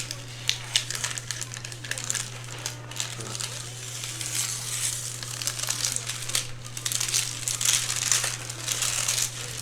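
Parchment paper is peeled slowly off a sticky adhesive sheet during card making, giving a continuous close crinkling and crackling rustle over a steady low electrical hum.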